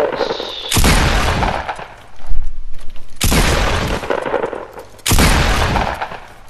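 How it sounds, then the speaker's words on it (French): Gunfire in a video game rings out in three loud, close bursts of rapid shots separated by short pauses, no voices. "Arrête de tirer, arrête de tirer."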